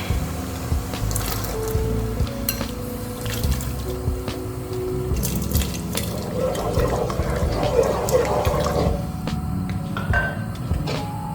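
Sago goes into boiling water in a pot for Kerala pineapple payasam, with a steady, close, sloshing and bubbling wash of liquid throughout.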